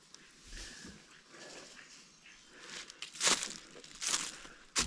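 A dog whimpers and yips softly nearby among rustling and crinkling sounds in a forest, with a few sharper louder bursts toward the end.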